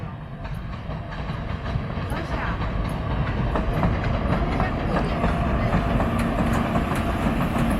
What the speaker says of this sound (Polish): Jedzie pociąg retro.